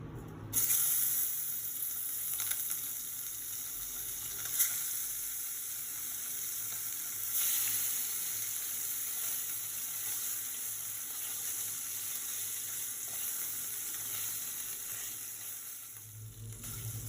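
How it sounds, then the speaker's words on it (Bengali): Fish fries in hot mustard oil in a wok, a steady bright sizzle lasting throughout, close and fairly loud, with a few faint clinks and no talking. "তেলটা গরম হয়ে গেছে, এবার মাছগুলো দিয়ে দেব।"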